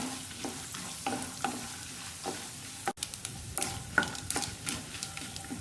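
Peanuts and dried red chilies fry and get stirred in a pan over a medium flame, giving a steady close sizzle broken by scraping stirs and light crackles, with no voices.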